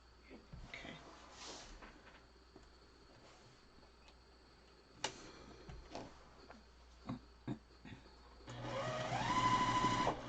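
Sewing machine stitching quilt pieces for a Farmer's Wife quilt block, running in a steady buzzing burst near the end after quieter stretches of handling noise and light talk.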